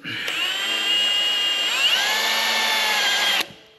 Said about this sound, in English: I'm gonna drill a little bit into it